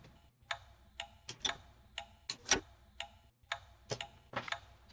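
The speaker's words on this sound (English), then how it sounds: "I waited for the timer tick sound and I let go." Bomb timer in the video game Keep Talking and Nobody Explodes, sharp mechanical ticks repeating about twice a second in a steady tick-tock pattern, close and clear with no talking.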